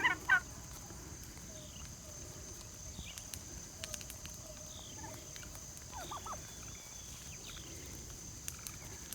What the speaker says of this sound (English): These are a bunch of my free-range turkeys that we raised.